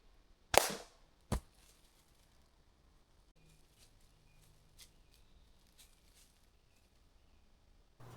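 A sub-12 air rifle fires once during a squirrel hunt with a sharp, close crack, then a second smaller snap follows, then quiet woodland with faint birds.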